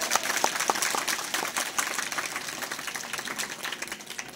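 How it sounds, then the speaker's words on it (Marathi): A crowd at a devotional gathering claps loudly and steadily, a dense patter of hands filling the space with a continuous, lively applause that tapers slightly toward the end. "जोरात टाळ्या वाजवा"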